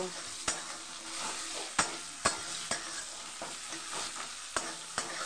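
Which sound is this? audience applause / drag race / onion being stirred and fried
onion being stirred and fried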